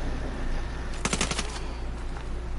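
Gunfire in Ghost Recon Wildlands: a quick burst of about six sharp automatic shots in the middle, moderately loud over a steady low game ambience hum.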